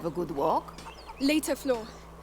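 A chicken clucking in A Plague Tale: Innocence, with a few short, bright clucks and squawks close by over a quiet hum.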